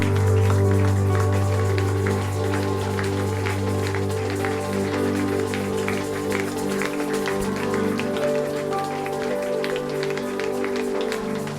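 A church congregation at a worship service applauds and cheers as Apostle Martin Ndongala is welcomed, a dense sustained wash of clapping over a steady background hum and tones.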